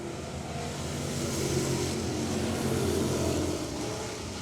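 Thunder Bomber race cars roar around the Travelers Rest Speedway dirt track, a steady, fairly distant engine drone that swells slightly and holds as the pack runs down the back stretch.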